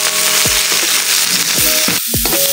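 Broccoli frying in a pan, a dense sizzling hiss under repeated scraping and knocking of a utensil turning the pieces, close up and loud, with no speech.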